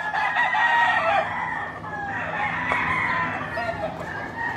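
A fighting rooster crows loudly near the start at a gamecock breeding yard, with other fowl clucking and crowing around it in a busy farmyard backdrop.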